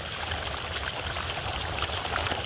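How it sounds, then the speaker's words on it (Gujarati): Water pours from the pipes of two running pump motors into a village field. It makes a steady, close rushing and trickling that continues without a break. "આપણે બે મોટરનું પાણી ચડાવી દીધું છે"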